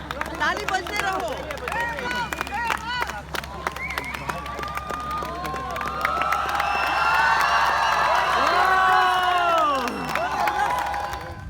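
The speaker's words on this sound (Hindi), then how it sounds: "ताली बजाओ जोर से, ताली बजते रहो।" A large outdoor crowd at the Papum Poma River Fest 2018 in Arunachal cheers, whistles and claps, growing louder and denser toward the end, with shouting voices throughout.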